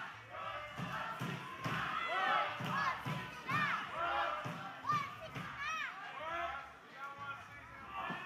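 A wrestling event crowd chants and cheers in rising, rhythmic waves across a hall, with occasional dull thuds from the ring below the voices.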